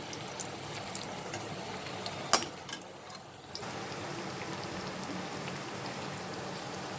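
Onion pakoras frying in hot oil, a steady, faint crackling sizzle with dense fine pops, briefly dipping quieter after a sharp tap, then resuming evenly.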